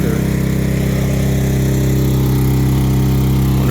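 A hydraulic pump runs on an Eagle Beaver folding neck trailer rated at 81,120 lbs GVWR, giving a loud, steady engine-like drone with a constant low hum that holds unbroken throughout.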